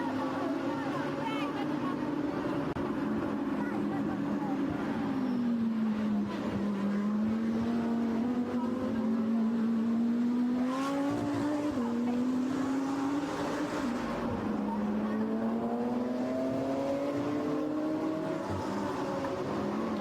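GT4 and GT3 race cars lap a circuit during a race, their engines droning and shifting pitch as they accelerate and pass, heard steadily beneath continuous commentary.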